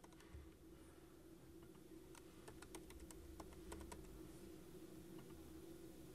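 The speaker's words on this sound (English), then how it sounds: "you'll notice I can type my responses right in." Faint, quiet typing on a computer keyboard, a short cluster of light key clicks in the middle over a steady low room hum, with no talking.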